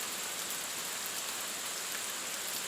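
Steady rain falling over a paddy field around a hut, an even, continuous hiss of drops with no pauses or voices.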